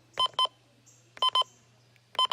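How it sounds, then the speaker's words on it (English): High-pitched button beeps from a Sima FirstAlert WX-268 radio: three quick pairs of short electronic tones, evenly spaced, clear and close against a quiet background hum. "the button beeps. Sounds like a high-pitched WR100 to me."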